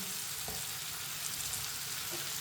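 Chopped bottle gourd sizzling and frying steadily in a pan, a continuous close crackling hiss with a couple of faint stirring knocks.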